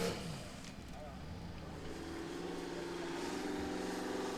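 Formula Offroad race car at Egilsstadir, Iceland, engine droning steadily and building slightly over a few seconds, heard under a commentator's voice.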